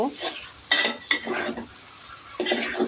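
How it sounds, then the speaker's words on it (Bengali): Mixed fish pieces are stirred and fried in a pan: close, loud scraping strokes of a spatula in bursts over a continuous oily sizzle, with no talk. "এরপরে দিয়ে দিচ্ছি আমি মাছগুলো আমি কিছুক্ষণ নেড়ে চেড়ে কষিয়ে নিব"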